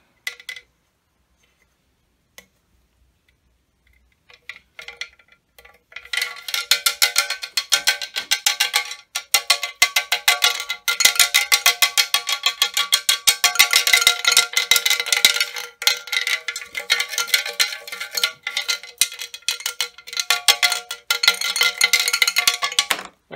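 Loose bolts rattle and clatter inside a part of an Oxford Allen Scythe mower, a dense, continuous metallic jangling that starts after a few quiet seconds with only isolated knocks and keeps going loud and close to the end.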